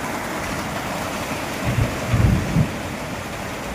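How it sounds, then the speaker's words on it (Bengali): Heavy rain pours outside in a dense, steady hiss while low rolls of thunder rumble through the middle of the storm, with no voices heard. "বাইরে প্রচণ্ড বৃষ্টি এবং বজ্রপাত হচ্ছে"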